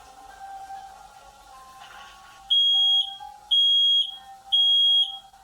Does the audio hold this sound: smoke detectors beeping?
yes